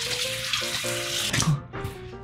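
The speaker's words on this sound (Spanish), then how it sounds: "Lo siguiente es lavarme la cara y la cabeza con agua fría." Cold tap water runs and splashes as someone washes their face and head, a close, continuous gurgle and spatter with shifting tones, no talking.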